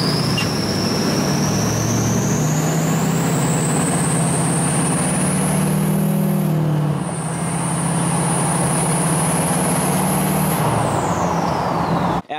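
Duramax LMM diesel pickup truck on a road test drive, a steady loud engine drone with rushing road and wind noise, pitch shifting slightly midway as it cruises.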